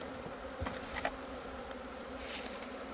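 Swarming honeybees gather at the entrance of a hive holding the queen, at a honey farm beneath a mountain. A steady, faint buzz of many insects continues throughout, with slight swells but no talking.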